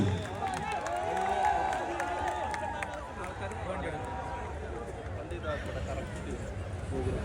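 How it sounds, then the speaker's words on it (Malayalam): A large audience at a live music program in Nilambur claps and cheers to welcome a singer, a dense, steady roar of crowd noise that swells early and then holds with voices mixed in. "നമുക്ക് ഒരു കൈയടി ആയിക്കൊണ്ട് സ്വാഗതം ചെയ്യാം"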